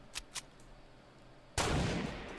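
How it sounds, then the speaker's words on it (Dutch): Gunfire in the Fortnite battle royale game: two quick faint shots early on, then a loud sharp blast that decays over about a second, with no talk over it. "Ja, daar ben ik nu op aan het schieten."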